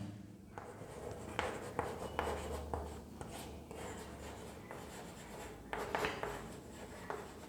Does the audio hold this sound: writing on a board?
yes